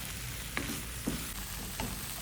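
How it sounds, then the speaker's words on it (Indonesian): Stink beans (pete) frying in a pan with pindang and kecombrang, a steady close sizzle and crackle with a few soft scrapes of stirring at intervals. "Aduk sampai petenya layu."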